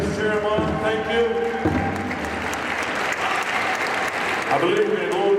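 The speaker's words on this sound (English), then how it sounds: "Now let's have a big round of applause, ladies and gentlemen." At a pow wow exhibition, a crowd claps and cheers under an announcer's voice and some background music, the applause steady and moderately loud.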